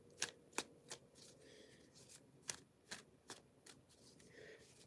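Header cards for a card reading are shuffled close up and quietly: about a dozen crisp, irregular snaps and riffles, with soft rustling in between.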